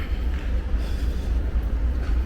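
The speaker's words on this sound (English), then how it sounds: "There's the train here." Soviet-era sleeper train at the main station in Chisinau, a steady low rumble with faint rail clatter, continuous and fairly close, no voices.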